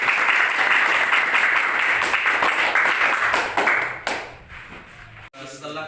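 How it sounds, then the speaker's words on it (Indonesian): Students in a classroom clap their hands together in a dense, close burst that thins out and fades after about four seconds, with a few scattered final claps. "Oke, tepuk tangan semuanya."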